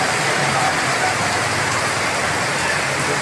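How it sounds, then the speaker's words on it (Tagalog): Heavy rain pours down steadily, a dense continuous hiss of drops drumming on surfaces close by, with no break in the downpour. "Punta na malakas na ulan, kaya silong muna ako dito."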